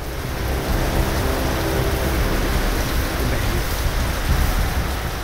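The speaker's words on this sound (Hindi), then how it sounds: "सुबह सुबह शुरू हुई बरसात रुक रुक कर पूरे दिन जारी रही।" Steady rain falling across Delhi-NCR in January, a continuous loud hiss and patter of water on surfaces with a low rumbling undertone, unbroken throughout.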